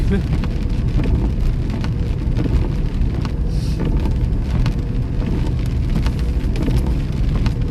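Steady rain falls on a street during an ice storm in Iowa, a dense, constant patter with scattered drips and faint traffic under it.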